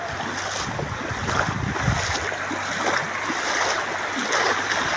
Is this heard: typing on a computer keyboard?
no